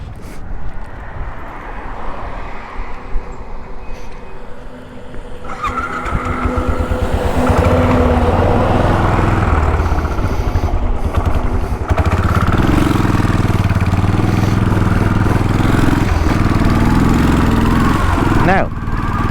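The engine of a Royal Enfield Bullet 500 motorcycle idles quietly at first, then swells into a loud, steady running drone heard up close for most of the stretch. A voice talks over it.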